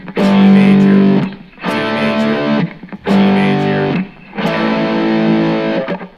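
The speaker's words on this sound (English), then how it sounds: "I'm playing them in power chords just because I have distortion on" Distorted electric guitar plays power chords through the Canon in D progression: four loud, sustained chords, each held about a second with brief gaps between, no voice present.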